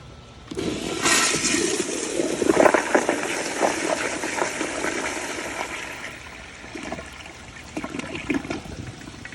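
A powerful wall-mounted Kohler Kingston toilet with water guard flushes, a sudden loud rush of water that swirls strongly, then tapers into trickling and refill gurgles with a brief surge near the end.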